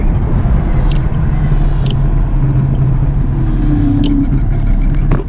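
A Circooter Landturbo electric scooter rides at full power in sport mode, giving a continuous steady motor whine and road rumble close by, with faint clicks and knocks scattered through it.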